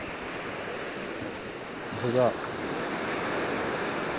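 Surf rolls in steadily at Cold Knap Beach in Barry, Wales, a broad continuous wash of waves with wind noise on the microphone, and someone briefly speaks partway through.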